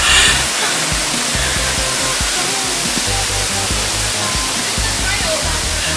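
Water thunders steadily down Erawan Waterfall, a loud, continuous broadband roar close by, with faint voices of people mixed beneath it.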